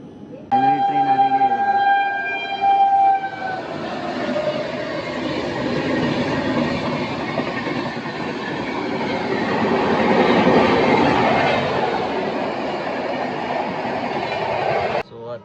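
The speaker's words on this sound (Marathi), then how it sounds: "ट्रेन सुटणार आहे परत" A train horn blares with a long tonal blast at Bhusawal, then the train rumbles and rattles steadily along the rails, loud and close, for a long stretch.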